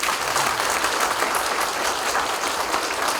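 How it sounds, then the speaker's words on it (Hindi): Sustained, dense applause from a large audience at a ceremony at an administration academy in Uttarakhand, many hands clapping evenly and loudly throughout with no pause. "दिल से ताली मारिए।"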